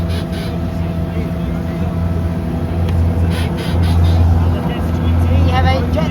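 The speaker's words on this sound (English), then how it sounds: "We have a jet boat." A steady jet boat engine drones loudly and continuously, with a low rumble that swells slightly toward the end; water and wind noise mix in.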